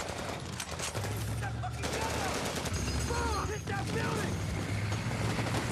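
Heavy .50 caliber machine gun fire in an ambush scene from the film Generation Kill, sustained rattling bursts mixed with battle noise and voices, fairly dense and continuous.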